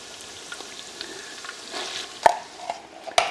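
Tomato paste and garlic fry in oil in a pot, a soft close sizzle broken by a few sharp scraping stirs, all within a few seconds.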